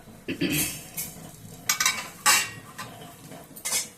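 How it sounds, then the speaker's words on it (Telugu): Coriander seeds roast in a little ghee in a pan, with a soft sizzle under repeated scraping and clinking of a metal spoon stirring against the pan. "ఇప్పుడు ధనియాలు వేయించుకుంటున్నాం."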